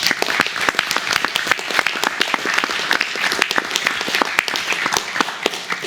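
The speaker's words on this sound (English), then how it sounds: "Let's give him one final applause." Final round of applause from a meetup audience for a presenter, lively clapping with distinct sharp individual claps standing out over a continuous crowd wash, no talking heard.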